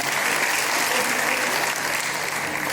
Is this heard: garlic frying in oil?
no